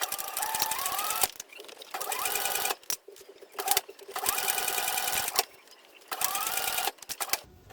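An electric sewing machine stitches a fabric bag in short bursts of rapid mechanical whirring, stopping and restarting several times with brief pauses between runs.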